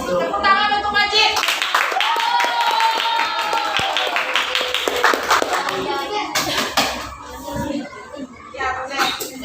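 A classroom of children claps for a classmate, brisk uneven hand claps that rise into a burst and then thin out, mixed with children's voices and shuffling nearby.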